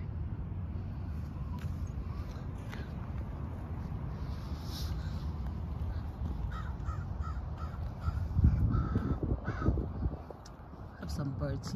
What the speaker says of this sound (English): Have some birds here.